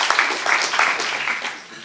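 Audience applause follows a pitch at a hackathon's final presentations, a steady wash of clapping from a room of people lasting just under two seconds, with a few voices mixed in.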